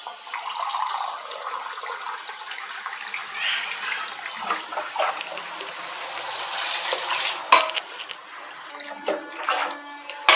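Water pours steadily into a pot of rice for chicken leg biryani, a continuous splashing rush with a few sharper clinks near the end, close and fairly loud with no talking.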